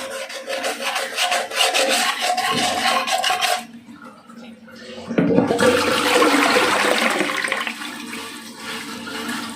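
Water poured into a toilet bowl while cleaning, gushing and swirling loud and close, stopping briefly before another rush of flowing water.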